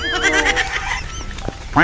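A goat bleats in a wavering, drawn-out call, then a second short bleat follows at the end. Both are close and clear over faint background noise.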